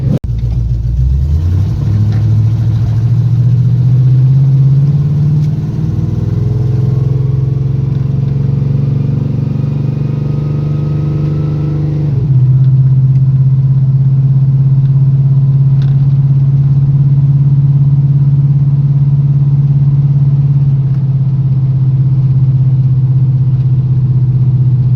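A carbureted Chevy square body drag truck engine runs loud and close, rising in pitch as it revs up over several seconds, then settling into a steady high, rumbling hold.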